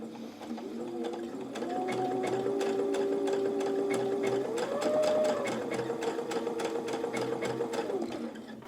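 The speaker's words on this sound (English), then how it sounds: "So I'm going to go ahead and sew this stitch" A sewing machine stitching a blind hem along a folded fabric edge, running steadily and close with a rapid mechanical needle rhythm and a humming motor whose pitch shifts slightly as the speed changes.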